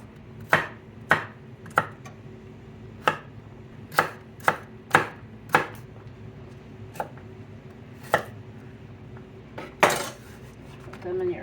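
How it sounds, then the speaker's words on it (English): Carrots being chopped into chunks for shrimp chilli, a knife striking a cutting board about a dozen times in an uneven rhythm, close and crisp with low background noise. "you can start cutting up your carrots. I just want those also in just chunks."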